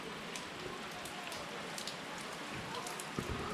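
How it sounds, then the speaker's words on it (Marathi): Heavy monsoon rain pours down outside a village house in Konkan, Maharashtra, a dense and continuous patter of drops striking surfaces, heard alone at moderate distance. "पण आता नेमकं पावसाला सुरुवात झाली आहे बघा पाऊस जोरजोरात पडतो आहे आता"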